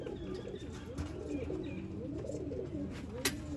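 Batera pigeons coo softly and continuously in a breeder's loft, with overlapping low, rolling calls and an occasional sharper flutter or chirp near the end.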